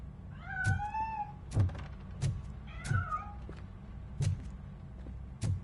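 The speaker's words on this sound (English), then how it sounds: "That cat must be hiding inside." A cat meows twice, drawn-out and wavering, in the video game RoboCop: Rogue City, between a series of regular dull thunks and knocks at close range.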